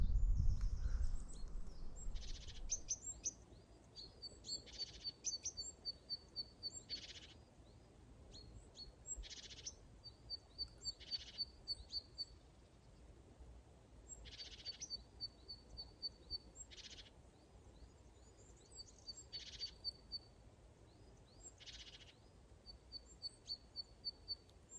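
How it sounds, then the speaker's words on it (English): Repeated bright bird chirps ring out in short bursts at steady intervals, fairly faint and distant over a quiet outdoor background beside Loch Lomond. "It's nice to hear the bird song."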